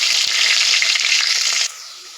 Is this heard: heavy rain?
no